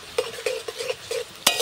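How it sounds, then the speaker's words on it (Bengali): A spoon stirs crushed black pepper into oil in a bowl while an ayurvedic joint-pain oil is prepared. About seven light, rhythmic clinks and scrapes sound close up, ending with a sharper tap. "দিয়ে একটু নাড়িয়ে দেব।"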